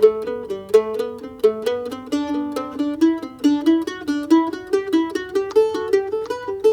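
Mandolin picking a slow folded scale pattern, evenly spaced plucked notes climbing step by step, repeating back every three notes, played alone.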